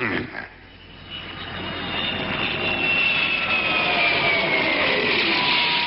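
Jet airplanes flying overhead, a loud sustained roar that swells and holds with a high whine drifting downward in pitch, briefly preceded by a voice.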